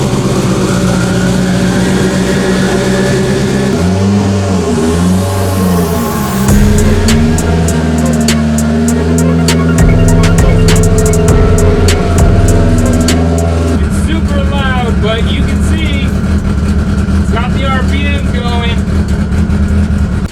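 A Mitsubishi Evo 10 engine starts and revs in a garage, the idle rising and falling through several loud, close throttle blips, with voices talking over the engine near the end.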